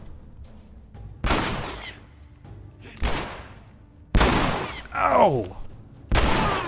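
Gunshots in The Last of Us Remastered, about four loud, separate blasts a second or two apart, each ringing out and decaying. A person cries out briefly between them.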